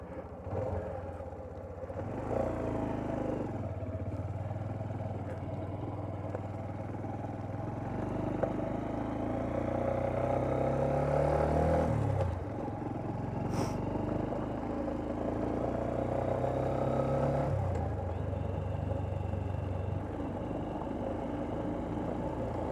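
A Honda CB125F motorcycle with a worn cylinder head rides up a rough road, its small single-cylinder engine droning steadily and close throughout, with the pitch rising and falling through gear changes and some clatter over the bumps.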